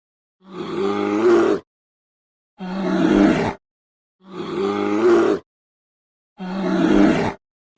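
A human voice imitates a bear's roar four times, each a deep, drawn-out growling roar lasting about a second, loud and close with silent pauses between.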